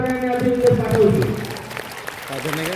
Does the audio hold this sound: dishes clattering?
no